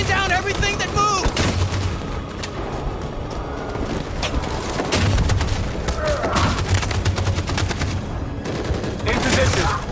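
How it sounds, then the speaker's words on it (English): Machine gun fire in Detroit: Become Human, loud, dense and continuous through a battle scene, with sharp repeated bursts and crackling shots under distant shouting and other combat noise. "That machine gun is taking down everything that moves!"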